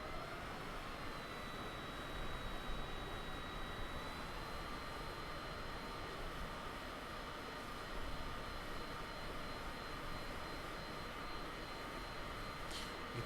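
Jet engine throttling back up in a flight simulator game, a dense steady roar with a thin high whine that climbs slightly as power increases, continuous and fairly loud throughout.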